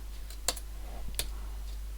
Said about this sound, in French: je tape un return